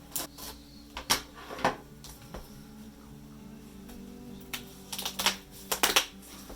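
Crinkly tearing and tapping clicks of a vinyl record package being opened from a mystery box, scattered irregular bursts close by with quiet pauses between, no voices.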